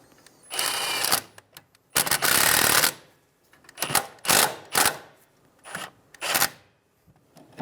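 A ratchet snugs down bolts on the rear strut assembly of a 2007-2011 Toyota Camry, heard as loud, close bursts of rapid clicking, each lasting a fraction of a second to about a second, with short pauses between strokes.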